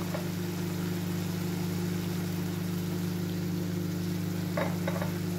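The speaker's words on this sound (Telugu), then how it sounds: "సో కారం వేగిందండి" Chili powder frying with tomatoes in a pan for paneer curry makes a steady, close sizzle over a constant low hum, with a few brief clinks of stirring near the end.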